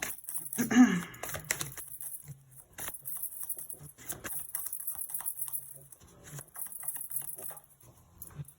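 Tarot cards are shuffled in a quiet room: a brief flurry of soft riffling and tapping near the start, then scattered faint card rustles.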